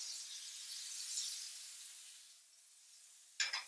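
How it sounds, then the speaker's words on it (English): Soft, steady sizzling hiss of butter in a frying pan that slowly fades, then a brief louder crackle burst near the end. "There's that sizzle."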